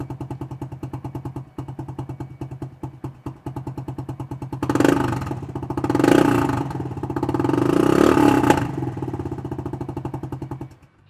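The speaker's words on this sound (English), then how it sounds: "This bike has been upgraded with a slip-on muffler." A 2012 Suzuki S40 Boulevard 650 single-cylinder motorcycle fitted with a slip-on muffler idles with a close, rapid thumping beat, then revs in three louder bursts before settling back and shutting off.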